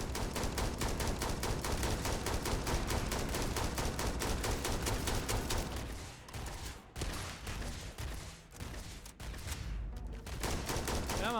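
Rapid automatic gunfire from the player's best gun in Starfield, a dense continuous stream of shots that thins into scattered bursts and pauses toward the end, loud and close.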